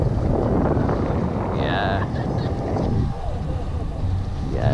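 Strong wind buffets the microphone in a continuous roar while parasailing in Belize, with faint whistling tones rising and falling over the gusts.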